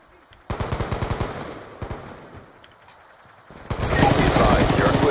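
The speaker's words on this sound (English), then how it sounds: "Yo, he's shooting at me." Automatic gunfire in a multiplayer first-person shooter game's hardpoint mode: a rapid rattling burst, a few scattered shots, then a sustained loud barrage, with players' voices chattering over the fight.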